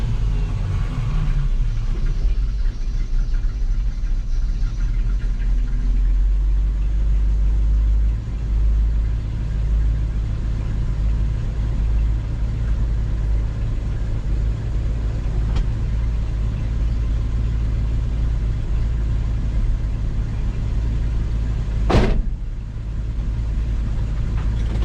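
A Mopar engine fitted with GM HEI ignition idles in park around 900 rpm, a steady low rumble held close and loud for the whole stretch, with one brief sharp click near the end.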